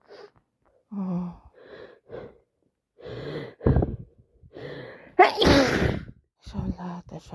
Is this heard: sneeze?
yes